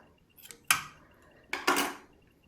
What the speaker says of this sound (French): pour la fin, je vais couper le fil